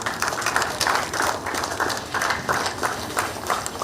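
A summit audience applauds in a steady, moderately loud patter of many hands clapping, sounding like a hall full of people, with no voices over it.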